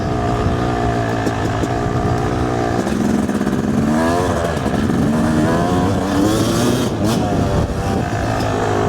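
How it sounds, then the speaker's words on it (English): A dirt bike's loud engine revs and drones steadily while being ridden on a trail, its pitch climbing and falling through gear changes, close and dominant throughout. "I usually never ride this bike without earplugs in, and it does make you realize how loud it is."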